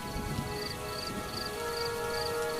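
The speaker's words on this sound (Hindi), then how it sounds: "बारिश अब भी लगातार हो रही है" Heavy rain falling steadily on a deserted village road, a constant wash of patter at moderate distance with a faint repeating chirp above it, no voices.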